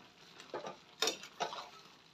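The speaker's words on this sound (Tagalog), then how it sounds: "Ayan na, haluin po natin yan." A spoon stirs a sweet sugary mixture in a pan, giving a few separate scraping clinks against the metal with quiet sizzling between them, close and fairly soft.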